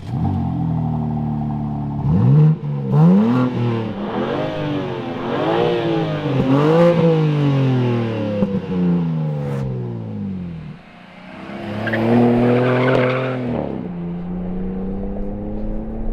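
A loud 2021 BMW M4 Competition engine revs up and down in repeated rising pulls, with a rougher, noisier burst near the end before settling into a steady idle.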